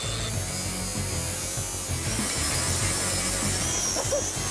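Grinding on a stainless steel beer cask, a steady close abrasive whir with a high metallic hiss over a low hum, continuous and unbroken for the whole stretch.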